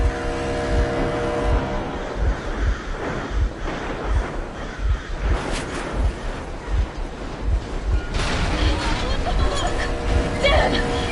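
A vehicle engine drones steadily during a chase in the game Metro Exodus, with rushing wind-like noise throughout and voices speaking over it.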